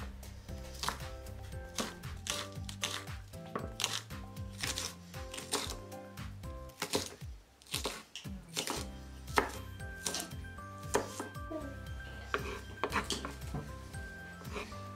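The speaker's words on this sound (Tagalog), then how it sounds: "kumuha lang tayo ng spring onion at hatiin ito ng maliliit" Knife chopping spring onion on a cutting board, a fast run of close, crisp rhythmic taps continuing throughout with brief pauses.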